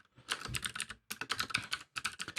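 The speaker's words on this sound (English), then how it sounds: "I'll type that into the chat" Close, quick typing on a computer keyboard: three short bursts of clicking keystrokes separated by brief pauses, soft and alone in a quiet room.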